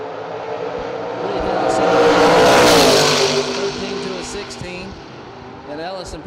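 Drag racing roadsters launch and accelerate down the strip, a loud engine roar swelling to a peak mid-way and then fading as the cars pull away, with a race announcer talking over it.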